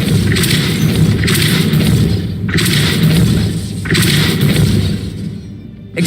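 Depulso spell impacts in Hogwarts Legacy, a series of four loud heavy whooshing booms about a second apart, each with a rushing burst and deep rumble, close and dominant.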